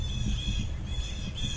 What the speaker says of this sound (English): Birds of carrion.